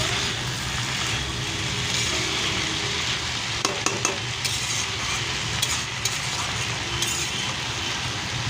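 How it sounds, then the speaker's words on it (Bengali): Boiled banana flower stirred with spices in a frying pan: continuous close sizzling with scraping stirs and a few sharp utensil clinks against the pan, no voices. "মোচাটাকে দিয়ে আমি এবার একটু ভালো করে নাড়াবো, মিক্স করবো, সমস্ত মশলাটা যাতে গায়ে লেগে যায়"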